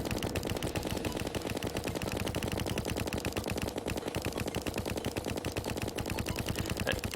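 Machine gun fire in the game Dungeon Guardian: a continuous, rapid, evenly spaced stream of shots rattles on without pause for the whole stretch, steady and dense, with no talk.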